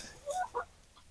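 Backyard chickens picking through a compost pile cluck softly, two short, faint clucks close together amid quiet outdoor background.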